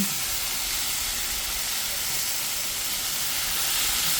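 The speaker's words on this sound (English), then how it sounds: "And then we'll kind of steam them the last bit of the way" A steady, even hiss of steam rising as green beans steam with a little water in a hot pan, continuous and fairly loud with no talking.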